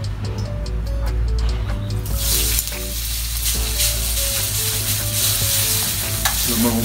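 Butter sizzles loudly in a pan for spaghetti carbonara while a utensil stirs and clicks against it in a ticking rhythm, with a brief surge of hiss partway through.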